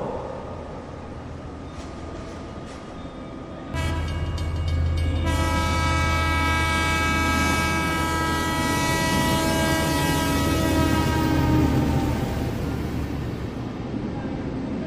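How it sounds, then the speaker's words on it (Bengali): A train pulls in with a loud, sustained horn blast over a heavy rolling rumble. The horn sounds from about a quarter of the way in and carries on for several seconds before fading under the rail noise. "ট্রেন আসতেই ট্রেনে উঠে পড়ল অতনু।"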